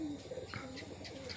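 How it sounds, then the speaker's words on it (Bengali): Pigeons coo softly at dusk as they return home, a few low rolling calls, close by over a faint background hum. "কবুতর বাসার সামনে চলে আসছে"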